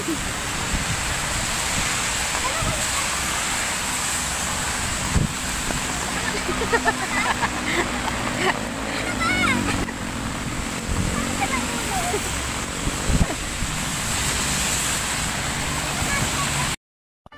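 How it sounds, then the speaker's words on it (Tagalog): Heavy rain pours steadily during a rainstorm, a dense, constant roar that fills the whole scene while people laugh and chat over it, ending abruptly. "Lakas ng ulan."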